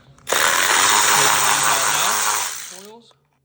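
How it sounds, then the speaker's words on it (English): A Snap-On 1/4 inch electric ratchet backs out 10mm coil pack bolts on a Hyundai Elantra during a tune-up, letting out one loud, close, steady whirring burst of about two and a half seconds that then winds down. "I like to use my 1/4" electric snap-on ratchet."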